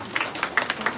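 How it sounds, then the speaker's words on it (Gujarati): A crowd at a Jagannath Rath Yatra procession in Visavadar claps in a brief, rhythmic burst, with several sharp claps close together over a soft hum of gathered people. "અહીં ન પહોંચે ત્યાં સુધી તાળીઓ તો પાડો."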